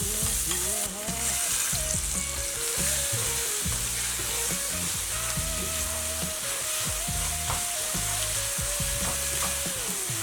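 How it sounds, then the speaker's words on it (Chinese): Beaten egg fries slowly over low heat in a pan with green peppers, giving a steady close sizzle broken by repeated scraping and stirring strokes. "这个时候我们再把搅散的鸡蛋液倒入里面， 改为小火，让鸡蛋慢慢的凝固。"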